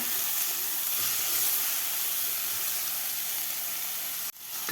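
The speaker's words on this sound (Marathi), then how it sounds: "आता भाजीसुद्धा आपल्याला दोन मिनटं व्यवस्थित परतून घ्यायची आहे खालच्या वाटणामध्ये व्यवस्थित परतायचे आपल्याला" Fenugreek leaves sautéing in green masala paste, a steady close sizzling hiss that cuts off abruptly near the end.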